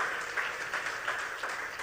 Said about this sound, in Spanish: Denle ese aplauso más grande al Señor.